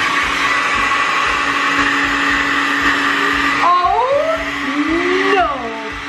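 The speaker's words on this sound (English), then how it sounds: "we only have this hairdryer from the 1990s" An old 1990s hairdryer runs with a loud, steady motor whine and airflow hum, its pitch shifting and sliding as the speed changes near the end.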